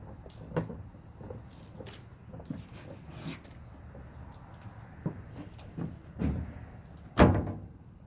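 A car roof being washed with water: soft patter and splashing runs throughout, broken by intermittent knocks and thumps of wiping, with one louder bump near the end.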